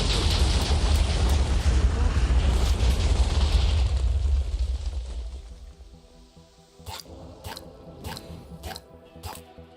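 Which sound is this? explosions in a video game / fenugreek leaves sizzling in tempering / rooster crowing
explosions in a video game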